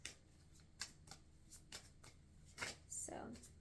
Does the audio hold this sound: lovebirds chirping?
no